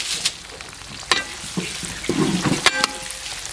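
Mustard seeds, curry leaves, cumin and dried chillies sizzle and crackle in hot oil as a tempering for sambar. Sharp pops and spits rise over a steady close frying hiss, with no voices.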